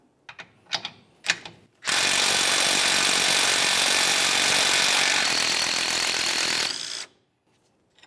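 A power tool, likely an impact wrench, buzzes for about five seconds to remove an 18mm nut from a sway bar link on a 2004–2015 Nissan Titan, preceded by a few sharp metallic clicks and taps.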